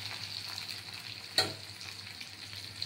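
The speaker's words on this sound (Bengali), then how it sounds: "এবার এই আলুগুলো আমি ভেজে নেব" Potatoes frying in oil in a pan for a Bengali pomfret fish jhal, a quiet steady sizzle with one sharp clatter of stirring partway through.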